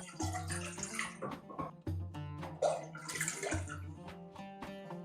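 Water poured into a saucepan for boiling lentils, a faint splashing and trickling stream that rises and falls in pitch over several seconds, with no talking.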